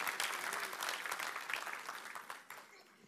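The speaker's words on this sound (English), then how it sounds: "Everyone give Dad a round of applause for sitting down." Steady, dense applause from a church congregation at a Sunday service, fairly quiet and thinning toward the end, with faint voices mixed in.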